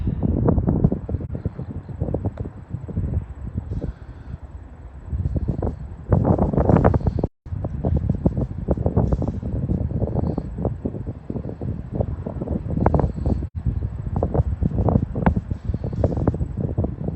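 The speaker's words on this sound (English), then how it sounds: "A lot of wind." Strong wind roars and buffets against the microphone in uneven gusts, loud and continuous with brief dropouts, at an old insane asylum building in Indianapolis.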